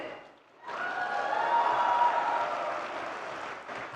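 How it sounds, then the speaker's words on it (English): A room of people at a graduation ceremony applauds, the clapping rising quickly after a short pause and holding steady at moderate volume. "Can we have a special round of applause because it's all women?"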